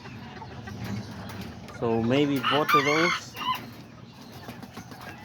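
A backyard flock of Azteca and Serama chickens with a rooster; one loud, close crow rises in the middle over quieter clucking, while someone talks briefly before it.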